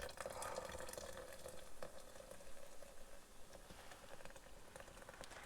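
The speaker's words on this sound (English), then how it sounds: "Now we just have to pour in our cream soda, mix, and then serve." Cream soda poured into a homemade Frobscottle drink fizzes and crackles steadily, a soft continuous hiss of bubbles with small pops, close by and fairly quiet, with no voices over it.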